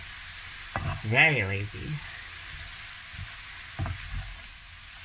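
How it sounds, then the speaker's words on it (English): Vegetables stir-fried in a pan give off a steady close sizzle, broken by the scrape and clatter of stirring. A voice speaks briefly over the frying. "So we just want to mix these through and really mix them in with the vegetables"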